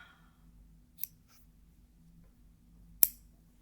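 Scissors snip crochet yarn close by in a quiet room, two sharp isolated cuts about two seconds apart against near silence.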